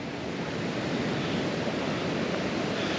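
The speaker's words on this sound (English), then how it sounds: "still maybe hear the waves in the background as" Continuous rushing wash of Lake Michigan waves breaking on a shore, broad and steady with some wind noise, no voices.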